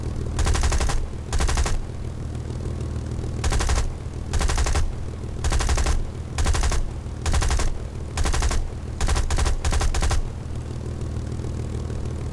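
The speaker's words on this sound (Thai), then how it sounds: "เสียงมันจะเป็นยังไงในเสียงปืน" Bursts of rapid automatic gunfire in short volleys in the video game War Thunder, separated by brief pauses, loud and close, over a steady low background hum.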